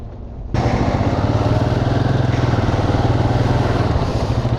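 Motorcycle engine riding along a mountain road toward Gulaba near Manali, starting after a brief quiet moment, then a steady, loud, close throbbing drone with a regular pulsing beat that holds throughout.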